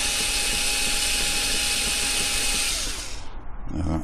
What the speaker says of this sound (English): And you only want to drill down so far.